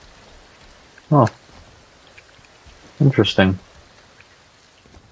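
Steady, soft rain falls in a video game, a continuous low hiss under two brief spoken remarks.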